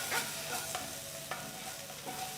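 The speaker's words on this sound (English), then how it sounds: "Fry the onions till they're a nice golden brown color. To this, I'm going to add half teaspoon of ginger garlic paste." Onions with ginger garlic paste frying and being stirred in a pan, a steady soft sizzle broken by a few light scraping stir strokes, close and fairly quiet, with no talking.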